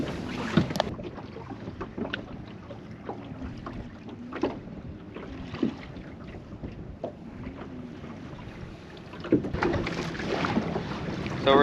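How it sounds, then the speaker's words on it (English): A fishing boat pushes on its trolling motor into waves and wind, with steady wind rumble over the microphone and irregular slaps and knocks of water against the hull, fairly quiet and continuous. "Using the trolling motor, putting it on continuous, and just moving into the waves and the wind"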